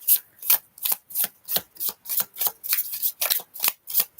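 Love oracle cards are shuffled in a quick, steady run of about a dozen crisp riffling bursts, close and clear, with no talking.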